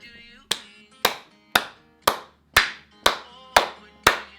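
An audience claps in unison with a bass drum beat, about eight sharp, evenly spaced claps at a steady pulse, loud and close, with music tones ringing between the claps.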